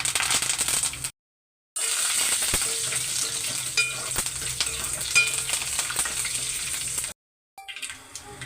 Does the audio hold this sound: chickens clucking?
no